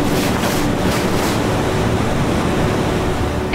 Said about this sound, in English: And I listened to the waves.